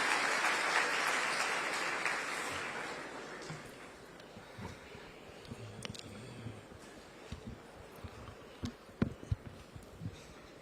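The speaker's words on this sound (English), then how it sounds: "A big round of applause for him to deliver a speech." Audience applause at a chartered accountants' gathering in Gujarat as Chief Minister Bhupendra Patel is called up, a full wash of clapping that fades after a few seconds into scattered claps, thumps and room noise.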